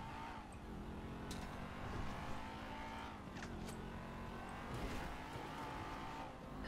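A fast car speeds along in GTA 5 during a police chase, its engine roaring and revving steadily with brief tire squeals and passing traffic, loud and continuous throughout.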